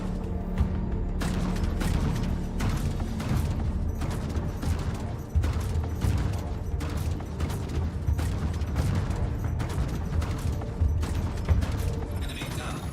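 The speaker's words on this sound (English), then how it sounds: "That was an explosion." A space-combat explosion in the Star Citizen video game, buried in a dense, continuous roar of gunfire and mechanical noise with repeated sharp bursts, loud and sustained throughout.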